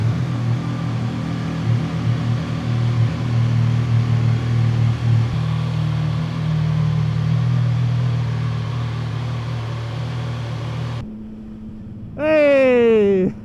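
A 2025 CFMOTO 675SR-R motorcycle idles steadily with a low, even engine drone for about eleven seconds, then a short gap is followed by a rising whine as the engine is revved or started near the end.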